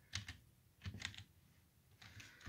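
Someone types on a computer keyboard, with quiet clusters of key clicks coming in short bursts separated by pauses, close and faint.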